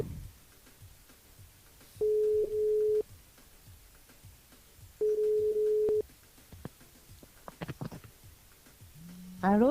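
Telephone line on a live morning radio show, heard as two long steady electronic tones, each lasting about a second, separated by a pause, followed by short clicks and a brief rising tone at the end, clear and close with no talking.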